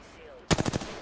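Automatic weapon fire in the video game Apex Legends, a quick burst of about five loud, sharp shots in rapid rhythm after a short quiet stretch.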